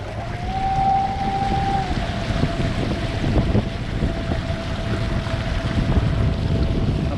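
A motorized kayak carrying a heavy rider cruises at about 7 miles an hour, giving a steady whine with a continuous rumble of water and wind buffeting the microphone throughout.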